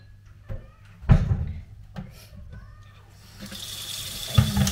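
A tap at a home in Finland turns on and water runs into a sink, starting after a few clunks and knocks and building into a steady hiss near the end.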